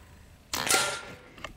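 A Crosman ICON PCP air rifle fires a single pellet, a sharp close crack with a short hissing tail and a faint click afterward.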